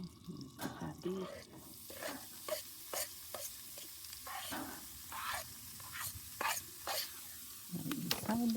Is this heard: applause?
no